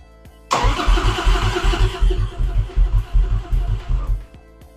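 A 1997 Harley-Davidson Road King's engine cranks loudly in a fast, even rhythm of repeated chugging pulses for about four seconds without catching, then stops; no talking.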